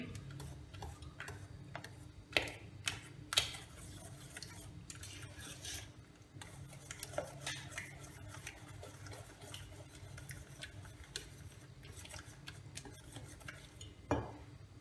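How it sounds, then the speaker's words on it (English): Fruit cake batter of flour, baking powder and salt is mixed by hand in a bowl, giving steady soft scraping and stirring with repeated sharp ticks of the utensil against the bowl, fairly quiet and without talk. "Then we'll mix all this, combine all this well."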